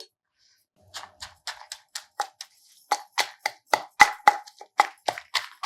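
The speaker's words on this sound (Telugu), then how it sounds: "ముందు కొంచెం మిరపకాయలు అవి మెత్తగా నలిపేద్దాము" Green chillies are pounded in a stone mortar for cucumber chutney, a series of sharp, close knocks and crunches arriving in an uneven rhythm after a brief silence, growing louder.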